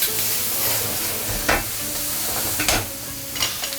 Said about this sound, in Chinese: 下入鱿鱼